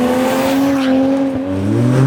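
Ford AU Falcon drift car with Pacemaker exhaust, engine revving loudly and close with a steady, slightly rising drone for a couple of seconds.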